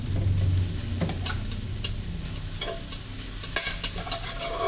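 Cold leftover rice sizzles as it is stir-fried in a pan, a constant close frying hiss broken by scraping and clacking strokes of the spatula.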